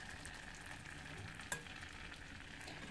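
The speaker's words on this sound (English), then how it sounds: "you're going to whisk that together until it's incorporated" Flour being whisked into two tablespoons of melted butter in a pan as the base for a cheese sauce, a steady soft sizzle and scraping under a brief louder clink, close and alone without talk.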